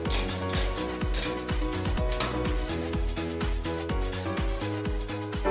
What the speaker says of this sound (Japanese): またスパナやラチェットレンチはボルトを早く締める工具